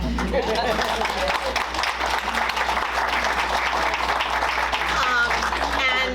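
Applause from an audience at a Delaware County presentation on children and families, steady and dense across the whole stretch, loud and close, with no speech over it.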